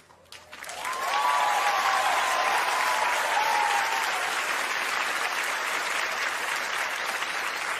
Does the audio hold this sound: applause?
yes